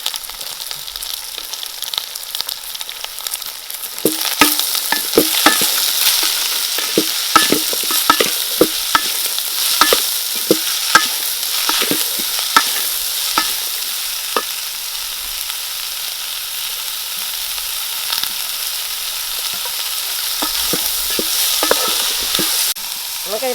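Onions sizzling with salt in a hot pan for a Kerala-style beef fry, with steady frying hiss and repeated scraping clicks of a spoon stirring, close and continuous with no talk.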